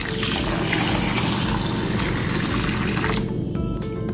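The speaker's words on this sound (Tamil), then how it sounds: "ரேஷன் அரிசியை எப்போவுமே நல்லா உரசி கழுவிடுங்க." Ration parboiled rice being rubbed and washed in water in a kitchen, a steady close sloshing and splashing of grains and water that runs continuously and then thins toward the end.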